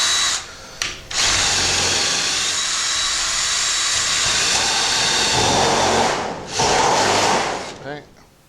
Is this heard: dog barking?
no